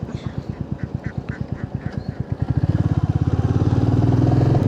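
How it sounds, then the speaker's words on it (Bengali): Ducks and chickens on a rural road in Jharkhand, with faint quacking over the steady thumping of a Royal Enfield Meteor 350 engine, which grows louder and rougher as the bike speeds up. "খুব সমস্যা এই হাঁস মুরগি"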